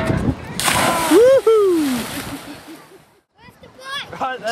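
A bicycle drops into seawater at Woodman Point with a loud splash and sloshing, followed by gurgling water. Excited voices whoop and call out over the splashing.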